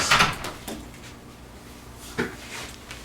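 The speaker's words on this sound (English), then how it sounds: "Carol, shut the door." A door being shut indoors, giving a sharp knock near the start and another solid thump about two seconds later, over a quiet room tone with no talk.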